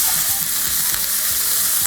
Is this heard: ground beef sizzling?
yes